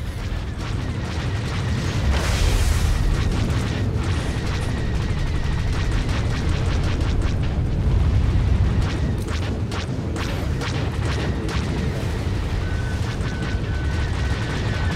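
Starfighter under fire in the video game SWTOR, a continuous roar of engine noise and rumbling explosions with clusters of sharp impact crackles, a thin warning tone sounding near the end.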